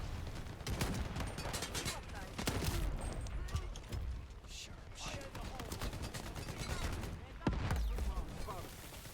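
Bursts of gunfire in a first-person shooter set on the road to Pripyat crack out repeatedly, some as rapid volleys and some as single sharp shots, loud and close, with a player talking between them.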